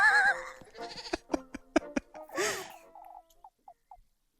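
A goat bleats in an agitated tantrum, a loud wavering cry followed by a string of short sharp bleats and huffs that fade to a few small faint calls, heard alone.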